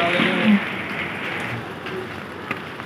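Steady rain falls in Mcleodganj near Dharamshala, a continuous close hiss of drops with a few faint voices underneath.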